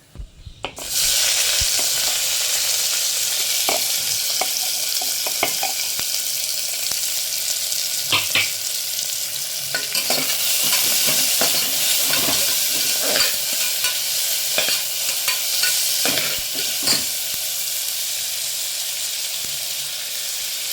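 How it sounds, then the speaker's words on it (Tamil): Chopped onions and fennel seeds with cinnamon and cloves fry in hot oil, a loud steady sizzle heard up close while a spoon scrapes and stirs the pan over and over. "இந்த சோம்பு பொரிட்டு நம்ம கட் பண்ணி வச்சு வெங்காயத்தை சேர்த்துக்கலாம்."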